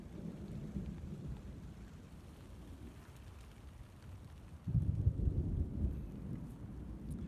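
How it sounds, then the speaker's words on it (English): Low rumbling thunder rolls over steady rainfall, swelling louder midway and staying heavy, with no voices. "I don't know if you can hear that thunder or not."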